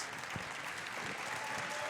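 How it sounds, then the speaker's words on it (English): Crowd applause at a Brazilian jiu-jitsu invitational in Ireland, a quiet, distant, steady patter of clapping from the arena audience, with no talk over it. "he takes the applause of the crowds here tonight at the Ireland Bjj Invitational"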